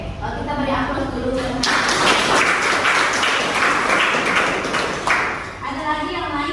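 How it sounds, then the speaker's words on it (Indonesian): Classroom applause from a group of students, a dense broadband patter of clapping lasting several seconds at steady loudness, with talk before and after it. "kita beri aplaus dulu"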